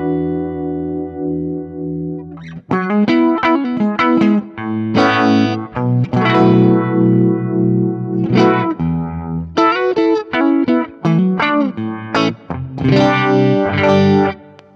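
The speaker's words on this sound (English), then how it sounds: "And then we got the Univibe, which I know everyone's going to want to hear." Electric guitar chords and riffs played through a Univibe setting on a Wampler Terraform modulation pedal, throbbing and swirling with distortion, strummed notes ringing out in bursts with short pauses.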